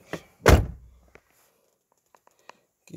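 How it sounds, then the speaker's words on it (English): A door shuts with one solid, loud thunk right near the listener, followed by a few faint clicks and small knocks in an otherwise quiet space. "Let me close this door"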